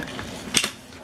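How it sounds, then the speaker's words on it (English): Rifle receiver pins slide into place, joining the upper and lower receivers: a single short metallic click near the middle, faint and isolated against quiet background. "you'll slide the pins back in place, securing the upper and the lower receiver together as one unit again"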